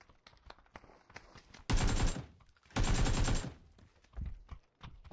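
Two sustained bursts of rapid video game gunfire in PUBG ring out close by, followed by a few scattered single shots.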